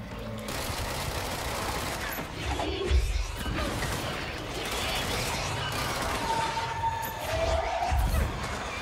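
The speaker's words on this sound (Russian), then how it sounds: "еще хороший выстрел" Gunfire in the action game Control, set in the Fra Mauro area of the AWE expansion, comes as bursts of shots and impacts over a steady, busy combat din, with a couple of heavier thuds standing out.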